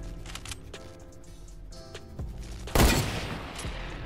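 Fortnite gunfire bursts loud and close after a stretch of quieter game noise, a sharp volley of several rapid shots followed by a trailing rumble.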